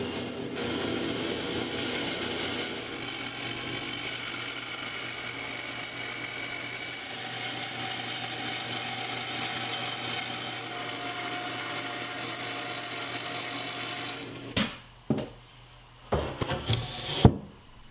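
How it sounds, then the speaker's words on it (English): A bandsaw cuts along a scribe line in a wooden cabinet piece in a workshop, a steady, loud whine and hum lasting most of the time before stopping, followed by a few close clunks and knocks. "since I'm in the shop, I'll use the bandsaw"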